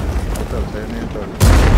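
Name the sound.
tank gunfire hitting player in World of Tanks video game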